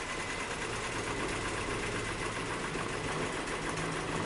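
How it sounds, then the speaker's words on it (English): A Nissan Maxima engine idles unevenly with a misfire while a scan tool cuts cylinders in a drop test, giving a steady close mechanical drone with a rough, knocking texture, heard alone with no talk. "So this is like a cylinder drop test with a scan tool."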